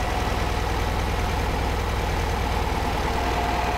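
Rebuilt 1955 VW Beetle air-cooled engine with single-tip mufflers idling steadily and close up, a constant low putter with no talk.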